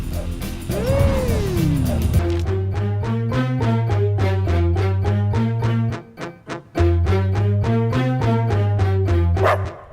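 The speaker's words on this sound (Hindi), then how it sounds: "कुत्ते को भूख लगी है" A dog barks in a rapid, regular series of loud, close yips against music, starting after a brief whine and pausing once before resuming.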